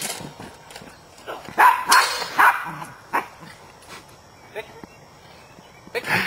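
A nervous dog gives a few sharp barks and yips, grouped in a burst near the middle and a last one at the end, heard close by while a person talks to it in German.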